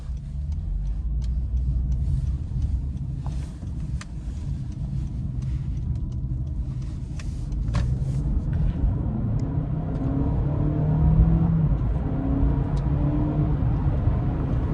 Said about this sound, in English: I'm gonna get it out on the highway and really see about the road noise and wind noise